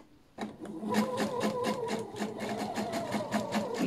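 Sewing machine running steadily, stitching a silk pillowcase with long stitches in a quick, even rhythmic chatter that continues throughout, close and moderately loud with no talking.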